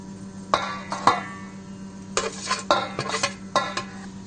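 Cooked sago is mashed with a masher in a metal pot, producing a series of irregular, close metallic clanks and scraping thuds, some quick and clustered, over a faint steady hum.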